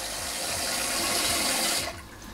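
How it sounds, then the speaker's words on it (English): Self-cleaning bidet nozzle spraying water, a steady close hiss of jetting water that cuts off near the end, leaving a quieter trickle; no talk. "Right now it's cleaning the nozzle, you can see."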